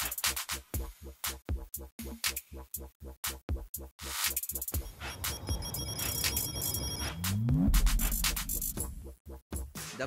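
A short chiming bell jingle rings out in repeated quick pulses, followed by a brighter sustained electronic tone with a sweeping swoosh, loud and close.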